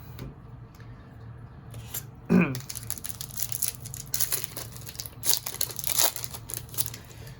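Foil Disney Lorcana Rise of the Floodborn booster packs are torn open and handled close up, with crinkling, rustling wrapper noise and a sharp rip near the start, while a person talks over it.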